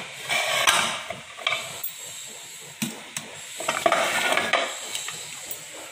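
Cooked dal being stirred into cabbage kootu in a pot, with repeated spoon clinks and scrapes against metal over a soft wet simmer, close and fairly clear.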